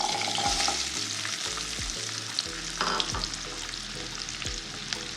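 Small onions frying in hot oil with a steady close sizzle, broken by occasional soft stirring clatters.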